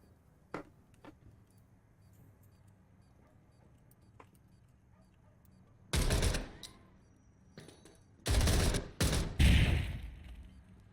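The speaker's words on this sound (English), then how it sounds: "Slittyfungus will get Yanis with the Rattler." Gunfire in the video game Zero Hour during a competitive match, with scattered faint clicks and then several loud, sharp bursts of shooting in the second half, separated by brief pauses.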